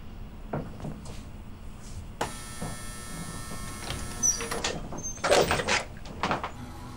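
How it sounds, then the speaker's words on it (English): A door opens in a tense crime drama scene, with a creaking scrape and shuffling movement followed by a couple of louder clattering knocks, heard fairly close with no talk. "Now open the goddamn door."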